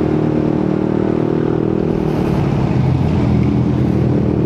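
Yamaha Nmax Tech Max Turbo scooter fitted with a VMAX Racing Onyx aftermarket muffler, revving loud and close on a highway, a steady droning exhaust tone that swells and holds without pause.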